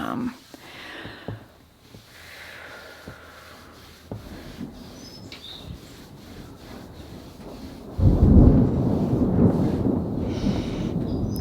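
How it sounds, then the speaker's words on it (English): Low thunder rumbles and rolls in the distance, swelling into a loud, sustained roar near the end, with faint sounds of movement earlier. "You guys can hear this thunder right now."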